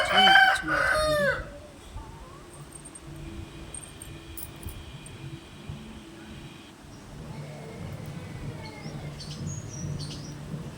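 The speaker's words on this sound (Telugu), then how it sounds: "ఇవి మా కోళ్ళు ఎండలకి చెట్లు కింద" Backyard chickens sheltering from the sun in the shade under trees: a loud, close rooster crow opens, then quieter scattered clucks and faint bird chirps over steady outdoor background noise.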